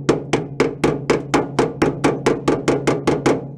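A hammer strikes metal in a fabrication shop, knocking down a tack weld with about fourteen sharp, evenly spaced blows in a quick steady rhythm, close and loud with a ringing tail on each hit.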